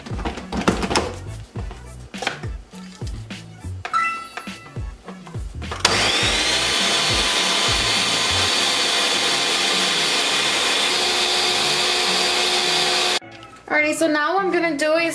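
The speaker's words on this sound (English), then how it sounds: "so we're just gonna mix it in a blender." A loud, steady blender whirs continuously for several seconds, cutting off abruptly near the end, with kitchen clatter and a bit of talk around it.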